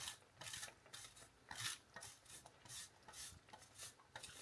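Parmesan cheese rubbed against a metal grater in quick, steady rasping strokes, about a dozen bursts of bright scraping, close and fairly quiet with no talking.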